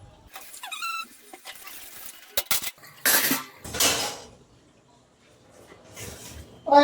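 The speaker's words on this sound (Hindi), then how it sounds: "पर उससे पहले मुझे बर्तन मांजने। ये देखो पूरी सिंक भरी पड़ी।" Dishes and cutlery being washed in a sink piled full, with clinking metal utensils, scraping and clattering pots, louder bursts of running water, and a few squeaky sounds, all close and irregular.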